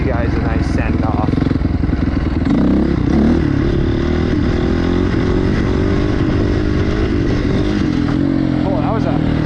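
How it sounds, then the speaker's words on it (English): Motorcycle engine revving hard as the throttle is cranked in sharp bursts, loud and close throughout, with the rider's voice talking over the engine noise. "Oh, that was a crazy crank of the throttle."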